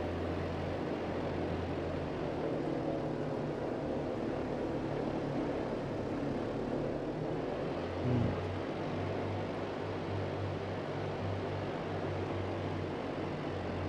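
A Grumman HU-16 Albatross amphibian in the MSFS 2024 flight simulator comes down for a water landing, its propeller engines a steady, close, even drone that runs the whole way with one brief bump partway through.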